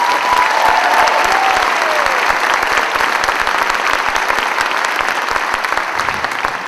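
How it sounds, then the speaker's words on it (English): Winter concert audience applauding the young musicians in a school hall, loud, continuous, full-room clapping without pause throughout. "So let's have a round of applause for all of them."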